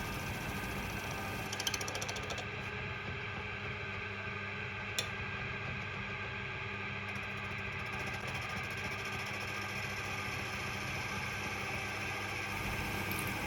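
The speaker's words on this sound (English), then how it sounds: "Try and grind an even amount on both sides, with both sides coming together to give a sharp edge." A bench grinder runs steadily while woodturning chisels are sharpened, a continuous motor whir with faint ticks of steel touching the wheel, heard close and alone.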